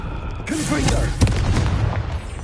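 Confringo blasting spell cast in a Harry Potter video game, heard as a sudden loud boom with a crackling burst, close up and tangled with game voices and other effects.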